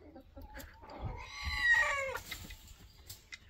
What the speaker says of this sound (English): Time to test out if I have a good rooster.